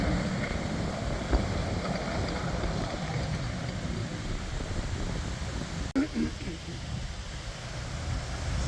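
A Flextrac FN-10 Nodwell tracked vehicle rumbles steadily at a moderate distance as it drives around outdoors, its low engine drone mixed with wind noise on the microphone.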